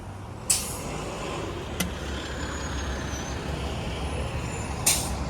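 A city bus on a Niagara Falls street lets out sharp air-brake hisses, one near the start and one near the end, over steady engine and traffic rumble with a faint tick between.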